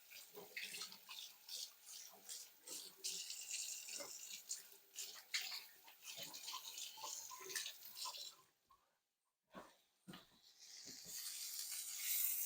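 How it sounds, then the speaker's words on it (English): A faucet runs during handwashing, a soft continuous splash with small fluctuations that briefly cuts out near the end before the flow resumes, quiet and close. "Wash our hands."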